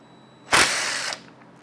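A DeWalt impact wrench fires one short, loud burst of about half a second on a Grom motor part, followed by a faint mechanical rattle.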